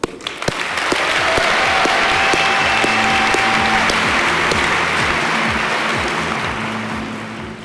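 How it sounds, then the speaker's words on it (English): A large audience at a corporate event applauds the Tivoli team, with dense, sustained clapping that swells quickly and holds steady before slowly thinning out. "I think that the Tivoli team deserves an applause."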